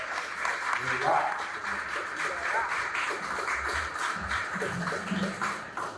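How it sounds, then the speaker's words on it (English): An audience at a gallery exhibition applauds for Derrick Burnett, a steady wash of clapping throughout with voices talking over it. "Let's give a big round of applause for Derrick Burnett."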